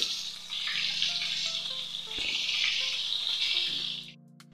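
Ridge gourd fried in a pan, about a kilo of it, added over black cumin seeds. It gives a steady, close hiss and sizzle with a faint tonal hum underneath that stops abruptly at the end.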